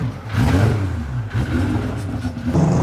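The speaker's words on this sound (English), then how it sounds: "this one has got the same K-Series setup. Big turbo and exhaust" A powerful turbocharged K-Series drag car engine with a big turbo and exhaust revs loudly in repeated surges, rising and dropping with brief lulls between bursts, at a drag racing event in Bangkok.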